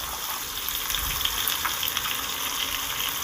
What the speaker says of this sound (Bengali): সব আলুগুলোকে আমি দিয়ে দিচ্ছি এবার সুন্দর করে ভেজে নেব